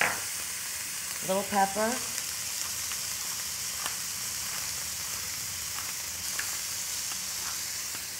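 Vegetables stir-fry in a hot wok with soy sauce, pepper and caramelizing onions, giving a steady sizzle throughout, with a brief spoken phrase near the start.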